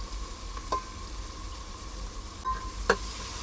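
Chili pieces and garlic sizzling in oil on a traditional village stove, a fairly quiet, even hiss with a couple of faint clicks from a stirring utensil.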